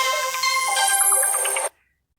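A Motorola ringtone plays a short, bright electronic melody for under two seconds, then cuts off abruptly into silence.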